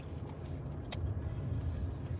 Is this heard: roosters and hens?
no